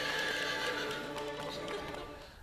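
A horse gallops over rock near a cave at the foot of a bluff, its hooves clattering under a shrill, drawn-out whinny. The sound is close and loud, then fades slightly toward the end.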